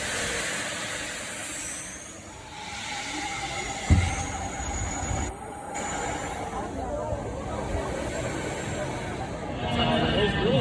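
Roller coaster trains running at Knott's amusement park, a steady rumble of cars on track with a brief clank and faint wheel squeal, heard from nearby under crowd murmur and talking.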